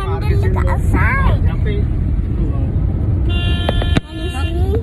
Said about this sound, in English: We are in the car today